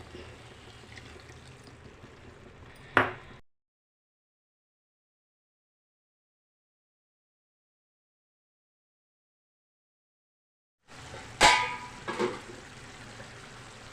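Water is poured into a pan of tomato dal curry, giving a soft splashing pour that ends with a sharp clatter. The sound cuts to silence for several seconds, then returns with more faint liquid noise and a couple of clinks.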